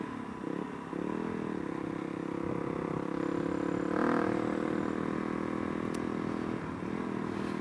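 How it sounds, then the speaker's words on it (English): Vehicles rev at a burnout contest, a sustained engine drone heard from a distance with a brief swell partway through and faint background noise throughout. "Looks like they've got a burnout contest going on."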